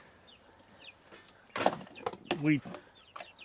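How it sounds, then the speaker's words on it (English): Young chickens, both hens and roosters, on an Alaska homestead give short, close clucks, with a louder burst near the end. A person speaks briefly over them. "we got a couple of hens in there. Definitely a couple of roosters"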